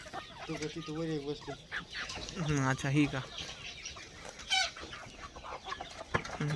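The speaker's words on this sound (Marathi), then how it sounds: "कोंबड्या कोणत्या कोणत्या ही एक कोंबडी विकायची आहे का" Desi village hens cluck in short, soft bursts at a poultry seller's, fairly quiet, while people talk nearby.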